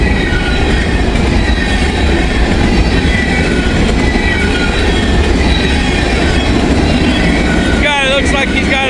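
A freight train hauling many empty cars rolls past close by, a steady loud rumble with rhythmic wheel clatter and brief squealing toward the end.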